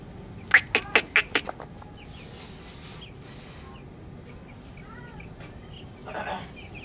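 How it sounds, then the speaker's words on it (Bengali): Small baby chickens at a home give a quick run of sharp peeps up front, then softer, scattered chirps follow at a low, close-by level. "মুরগির বাচ্চা।"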